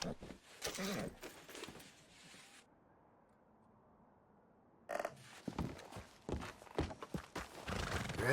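Horse whinnies and hooves clatter in Red Dead Redemption 2, loud bursts of neighing and hoofbeats at the start and again after a quiet stretch of low rumble in the middle, with no talking.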